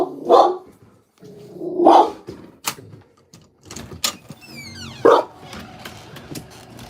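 A dog barks indoors at someone walking by outside, three sharp barks spaced a couple of seconds apart, close and loud, with softer shuffling and clatter between them.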